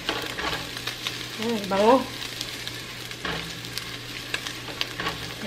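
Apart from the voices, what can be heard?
garlic frying in a pan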